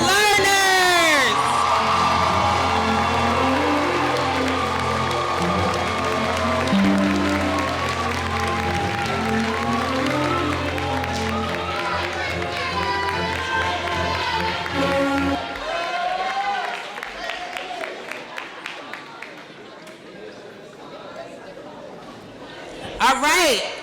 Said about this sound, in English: can we hear that applause one more time?